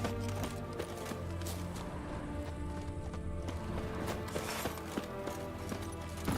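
Horse hooves clip-clop at a steady gallop in The Witcher 3: Wild Hunt, Hearts of Stone, with a busy game soundscape and music underneath and a brief whinny possible.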